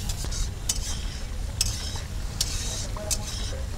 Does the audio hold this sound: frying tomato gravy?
yes